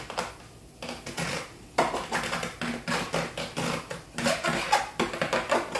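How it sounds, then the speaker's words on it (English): Dry noodles tipped into a pot with butter and garlic, giving a run of clattering, rattling knocks and scrapes against metal cookware, close and fairly busy, with no talk over it. "And put these noodles in."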